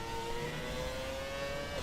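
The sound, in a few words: F1 2017 race car engine revving at launch, video game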